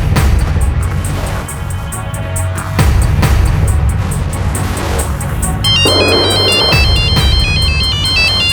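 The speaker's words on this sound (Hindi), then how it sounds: "अंजलि का फोन है।" A phone ringtone plays a repeating electronic melody over a busy, rumbling background, with bright beeping tones growing more prominent toward the end.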